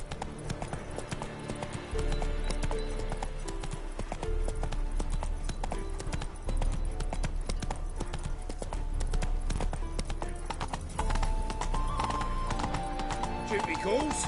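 Video game horse hooves clip-clopping in a steady galloping rhythm with occasional whinnies, layered over game music and effects, with a voice briefly urging the horse on.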